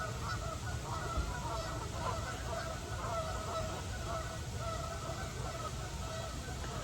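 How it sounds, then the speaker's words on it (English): Many geese honking continuously in a dense, layered chorus, moderately distant, against a steady outdoor background. "an orchestra of geese honking"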